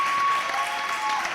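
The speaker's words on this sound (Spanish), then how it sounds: "Y que siga el aplauso para Andrés Llena." An audience breaks into steady, dense applause at an interview event, a continuous wash of clapping at moderate volume throughout, with no voices on top.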